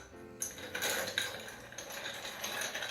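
Ice clinks and rattles as a Sazerac cocktail with Peychaud's bitters is stirred in a mixing glass, a continuous close jingling swirl of cubes against glass with no talk.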